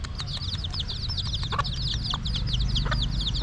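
Chickens cluck in quick, repeated bursts close by, with steady background noise underneath and no talking.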